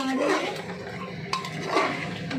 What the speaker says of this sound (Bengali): নাড়িয়ে নিই খাবারটা